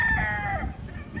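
A gamecock rooster crows once nearby, a loud drawn-out call that falls away at the end, followed by low clucking in the background.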